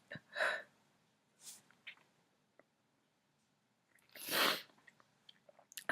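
A girl's stifled sneezes come as a few short, muffled bursts separated by quiet pauses, the last one louder and fuller, close by with no talking.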